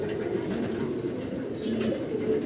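Large silver Sirazi male pigeon cooing steadily and close, with the low rolling calls continuing throughout against a dense background of other birds.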